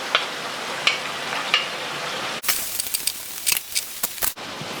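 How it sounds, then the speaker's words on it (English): Sauteed onions and beef steak for Filipino bistek tagalog sizzle and get stirred in a pan, a steady frying hiss broken by sharp scraping and clattering strokes of a utensil, close and moderately loud with no talking. "we can add back the onions that we sauteed earlier"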